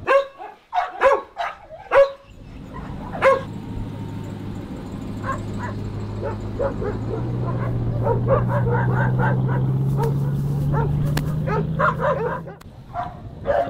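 Dogs at a dog rescue bark, yip and whimper, starting with a loud cluster of close barks and then scattered barking over a steady vehicle hum. A few barks ring out near the end.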